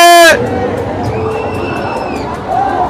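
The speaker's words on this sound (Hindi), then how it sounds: "यहाँ तक कुछ चिल्लाहट आती है कि रोक दो मित्र।" Crowd of people shouting and screaming on a fairground ride at a Geeta Jayanti fair in Kurukshetra, a continuous distant babble of cries after a brief loud tone at the start.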